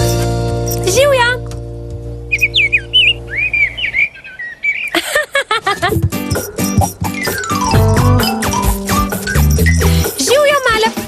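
Small bird chirping in bright, rapid tweets and whistled calls, first alone, then under a children's cartoon soundtrack with music and voices.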